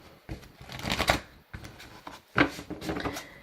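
Oracle Belline cards are shuffled by hand close up, in two quick riffling bursts separated by a short pause, crisp and papery at moderate loudness.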